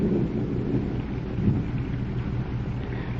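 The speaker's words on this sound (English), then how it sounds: "The rain is flinging pebbles into his face." Thunderstorm and heavy rain effect for a 1930s radio drama, a dense steady roar of rain with low rumbling thunder swelling near the middle, loud and unbroken with no voices over it.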